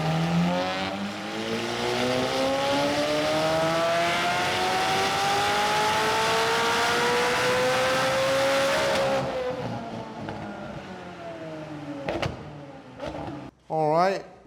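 Stock-turbo McLaren engine revving on a dyno, a loud sustained roar rising steadily in pitch for about nine seconds, then dropping off to idle with a couple of short blips near the end.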